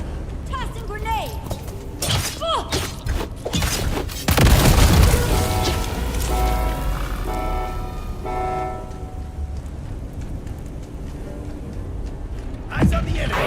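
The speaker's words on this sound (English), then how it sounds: "Tossing grenade." A tossed grenade bursts in Dune Awakening with a loud, deep boom around the midpoint, followed by ringing debris and lingering game effects, and speech is mixed in.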